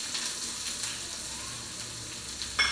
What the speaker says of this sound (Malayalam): കടുക് വറുക്കാനായിട്ട് കടുകിട്ടു. ഉള്ളി, മുളക്, കറിവേപ്പില എല്ലാം കൂടെ ഇതിനകത്തേക്ക് ഇട്ടിരിക്കണം.